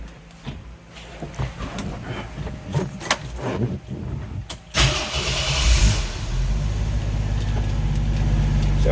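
A 1985 Jeep CJ8 Scrambler cranks up close by after some keys jangle and interior shuffling, then catches and settles into a steady, rumbling idle. No one speaks.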